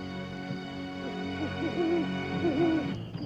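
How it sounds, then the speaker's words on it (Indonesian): An owl hoots softly several times in a wavering, rising-and-falling call over a steady background hum, fairly distant. "Tumben ada suara burung hantu."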